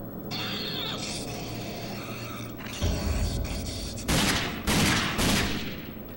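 Gunshots ring out in the Rage video game, a few sharp loud bursts in the second half over a continuous mechanical game hum and rumble, no talking.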